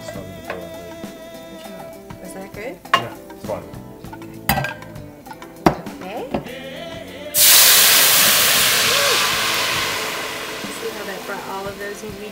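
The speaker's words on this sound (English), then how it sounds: "I'm going to keep the heat on because we're going to deglaze the pan. The wine." Wine poured into a hot pan to deglaze it after searing venison and vegetables, bursting into a loud, sustained sizzle and hiss that slowly fades, after a stretch of clinking utensils and pan knocks with talk.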